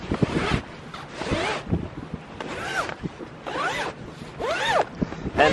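The zipper on a Mack pack sail cover aboard a sailing boat is pulled open in several quick rasping bursts, loud and close, with light wind noise between pulls.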